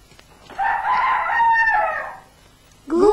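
A rooster crows once, loud and close, a long drawn-out call in the open air, followed by the short start of another crow at the end.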